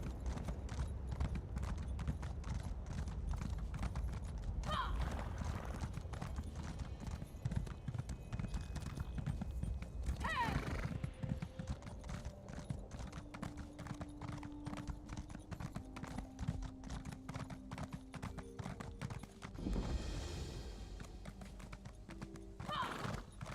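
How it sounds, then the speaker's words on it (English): In the Elder Scrolls Online, set in Morrowind, a horse's hooves clip-clop in a steady, continuous rhythm while riding along a path, with occasional whinnies and game sounds mixed in and no talking. "This stupid horse, man."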